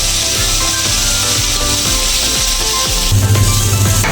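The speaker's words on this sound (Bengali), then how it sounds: "একসঙ্গে সব নেড়ে চেড়ে নেব।" A spatula scrapes and stirs a spice mixture of chili powder, turmeric and salt in a cooking pan, a steady, continuous rasping close by with no talk.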